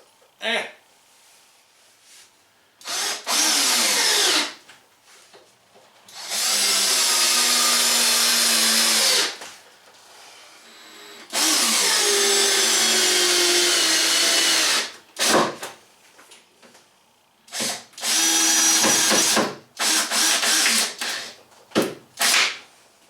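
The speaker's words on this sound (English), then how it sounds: "now we'll fasten a screw on each side here" A power drill drives screws into a teardrop trailer's interior cabinet in four loud, sustained bursts of several seconds each, separated by quiet pauses with faint handling noise.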